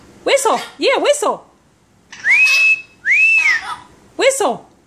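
A mitred conure parrot whistles two clear rising-and-falling tones, set between bursts of a person's voice; the bird's whistles are loud and close.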